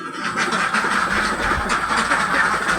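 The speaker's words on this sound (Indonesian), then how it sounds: "Oke, kita lihat bebek-bebeknya dulu ini guys." A crowd of ducks on a laying-duck farm quacks continuously and busily, a dense chorus of overlapping calls close by that fills the whole stretch without pause.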